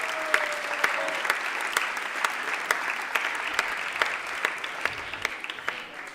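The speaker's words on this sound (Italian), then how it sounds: "fatemelo un applauso con entusiasmo ragazzi" A comedy show audience applauds with enthusiasm, a dense and steady wash of clapping that holds at a constant level throughout, with brief sharper claps standing out now and then.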